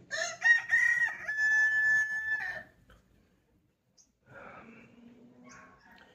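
A loud, close rooster crow rises and holds its long drawn-out note, then a pause, followed by quieter clucking and squawking from fowl.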